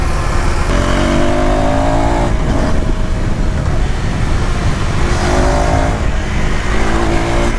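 KTM Duke 390 motorcycle accelerating in third gear, engine pitch rising steadily in two pulls with a brief pause between them, loud and close under heavy wind rush.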